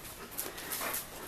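A Husky panting softly in quick breathy puffs, faint and close, with a slight whimpering edge and no talking.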